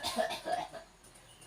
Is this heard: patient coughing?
yes